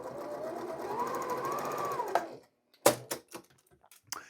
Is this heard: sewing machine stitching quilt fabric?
yes